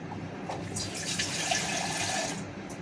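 Water gushes steadily into a pot of rice for prawn pulao, a continuous close splashing pour with no talking.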